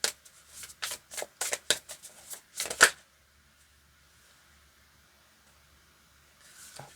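Tarot cards being shuffled by hand, a quick series of about a dozen crisp riffling slaps over three seconds, then near silence before a faint rustle returns at the end.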